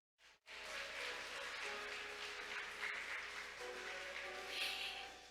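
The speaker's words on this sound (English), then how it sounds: "Let's welcome him with a warm round of applause" A conference audience at a maritime industry event applauds as a speaker is welcomed, steady, fairly faint clapping from a room after a brief pause. No talk is heard over it.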